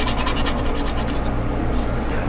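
Paint being scraped off an artist's palette with a rasping, rubbing scrape that runs steadily and close for a couple of seconds, with no talking.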